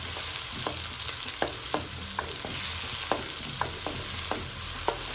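Onion frying in a pan for a potato pottage, a steady close sizzle with sharp clicks and scrapes of stirring recurring at an irregular rhythm, no voices.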